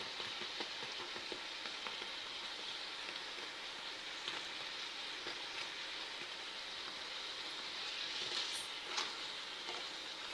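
Stuffed carrot sweets fry in groundnut oil with a faint, even bubbling crackle, like light rain, continuing steadily throughout without voices.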